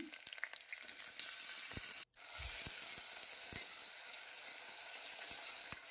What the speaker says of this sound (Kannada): ಟೊಮೊಟೊ ಸಾಫ್ಟ್ ಆಗೋ ತನಕ ಫ್ರೈ ಮಾಡ್ಕೋಬೇಕು